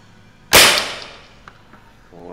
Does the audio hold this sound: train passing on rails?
no